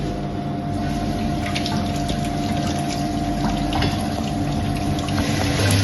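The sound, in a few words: water flowing from opened flow tap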